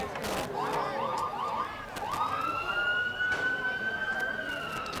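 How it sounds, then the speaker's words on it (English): Emergency sirens wail in the background at a varsity high school football game, rising and falling tones that settle into a long steady pitch, fairly distant, with faint crowd murmur. "Sirens in the background taking Blake."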